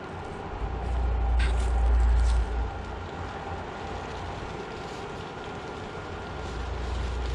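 An electric blower fan inflating a Star Wars AT-AT yard inflatable outdoors, a steady rushing whir with a low rumble that swells early and then settles into a continuous hum.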